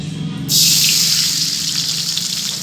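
Liquid palm sugar syrup poured into hot oil, starting abruptly as a steady loud hiss and gushing sizzle that continues unbroken, with a low hum beneath.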